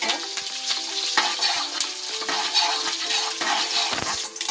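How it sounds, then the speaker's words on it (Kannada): Mustard seeds, cumin, chana dal, dried and green chillies and curry leaves frying in hot oil for gooseberry chitranna, a steady loud sizzle broken by scraping stirs and a few sharp spatters. "ಇವಾಗ ಇಲ್ಲಿ ನಾನು ಸಾಸಿವೆ ಜೀರಿಗೆ ಕಡಲೆಬೇಳೆ ಒಣಮೆಣಸಿಕಾಯಿ ಹಸಿಮೆಣಸಿಕಾಯಿ ಕರಿಬೇವು ಇದಿಷ್ಟು ಹಾಕ್ಕೊಳ್ತಾ ಇದ್ದೀನಿ ಚೆನ್ನಾಗಿ ಫ್ರೈ ಮಾಡ್ಕೊಬೇಕು"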